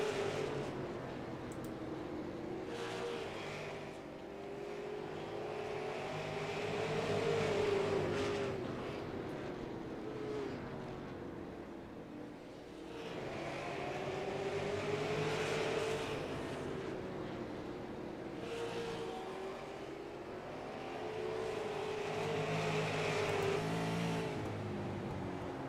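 Race cars circle a racetrack in a Crooked Line Racing event, engines droning continuously at a distance, swelling and fading in repeated waves as the pack passes and recedes.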